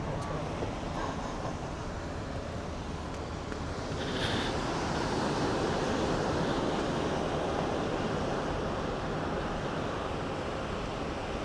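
Steady surf washes onto a beach at Esperance, Western Australia, as a continuous broadband roar that swells slightly partway through, mixed with wind buffeting the microphone.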